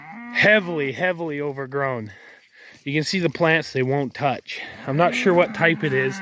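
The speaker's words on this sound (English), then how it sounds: "You can probably hear the cow in the background bellowing." Cattle grazing a forest pasture beside sheep and goats bellow in long, deep calls, mixed in with someone talking nearby.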